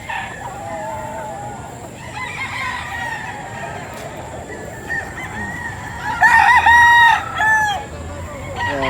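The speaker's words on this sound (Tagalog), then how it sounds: "pili lang kayo sa mga manok ni Boss Ray, ah." Roosters crowing over a background of clucking chickens at a chicken market in Bocaue, with one loud, close crow near the end and other calls farther off.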